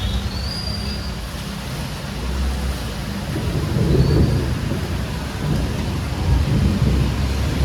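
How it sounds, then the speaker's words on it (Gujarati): Heavy rain pours steadily during a violent storm in Surat, with deep rolls of thunder swelling midway and again near the end, loud and close. "કડાકા બડાકા બહુ થાય છે મિત્રો અને વરસાદ તો બહુ જ પડે છે"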